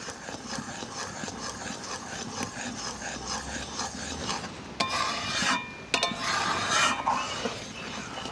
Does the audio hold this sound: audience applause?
no